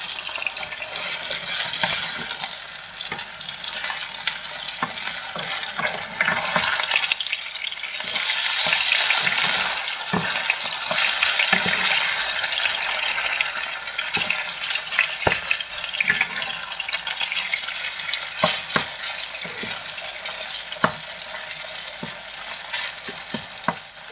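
Liver sizzles steadily in a hot frying pan while being stirred, a constant loud crackling hiss with scraping spoon strokes and occasional sharper pops and clicks throughout.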